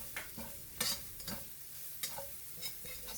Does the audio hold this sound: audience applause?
no